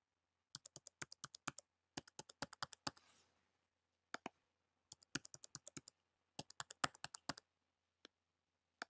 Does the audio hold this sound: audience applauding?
no